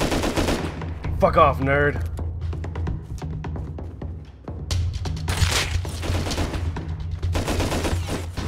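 LR rifle fire in the Rust video game crackles in rapid repeated shots, steady bursts through the whole span, with a man swearing briefly over it.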